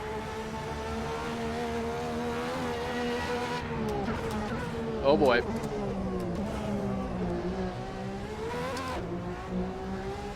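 Aston Martin race car engine in the Assetto Corsa racing game, a loud sustained drone that climbs and falls in pitch through gear changes, with someone talking over it.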